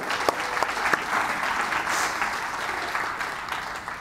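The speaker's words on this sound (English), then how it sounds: "Let's give them a big round of applause for doing it here." A room full of listeners at a startup funding talk applauds, giving a dense, even wash of clapping that holds steady from start to finish with a few louder claps near the start.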